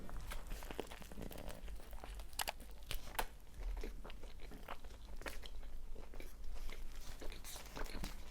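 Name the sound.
biting and chewing a chicken shish wrap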